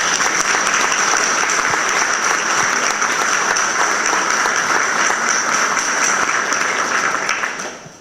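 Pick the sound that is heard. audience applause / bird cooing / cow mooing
audience applause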